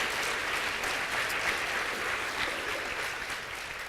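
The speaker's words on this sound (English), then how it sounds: "You can clap for that, actually." A lecture audience claps steadily throughout, a dense, even wash of applause from many hands at moderate loudness.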